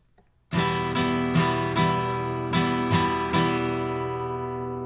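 An acoustic guitar strums full chords in a rhythmic pattern with a gap where beat three is skipped, ringing clearly with no talking.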